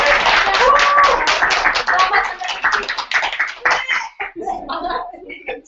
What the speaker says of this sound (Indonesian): tepuk tangan dulu. Tepuk tangan dulu.